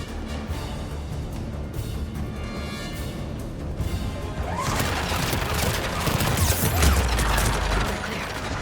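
Turret gunfire and crashing impacts in the Mass Effect 3 video game, a dense, loud barrage that swells into heavy booming bursts in the second half, with no talk.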